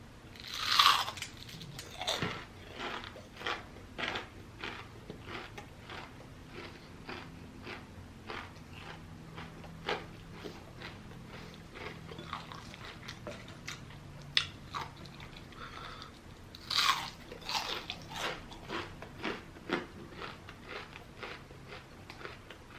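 Someone bites and chews a crunchy Arby's onion ring up close, with repeated crisp crunches in an irregular rhythm and a couple of sharper bites standing out, no talking.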